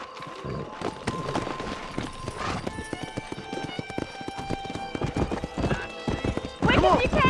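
Hooves of a horse in Red Dead Redemption clip-clop in a fast rhythmic gallop, mixed with game music and a brief spoken line, ending in a louder whinny-like burst.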